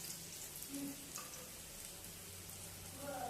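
Ragi flour cooking in ghee in a pan on a low flame gives a steady, soft sizzle, faint and continuous with a few light scraping touches.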